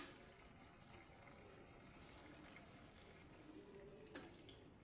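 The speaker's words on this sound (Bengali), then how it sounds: "জল দিয়ে দেব।" Water poured into a pot of braised soybeans while cooking, a faint, steady hissing splash with a couple of soft clinks at the start and near the end.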